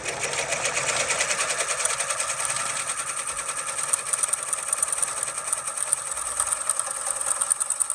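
Embroidery machine stitching out a logo at its slowest speed, a steady, even mechanical rattle of needle strokes running continuously and fairly close, with no talking.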